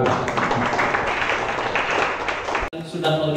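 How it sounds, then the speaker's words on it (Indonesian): Applause at a morning coffee gathering and discussion, a thick burst of clapping from the audience that stops abruptly near the end, followed by a brief quieter tail. "Tepuk tangan buat kita semua"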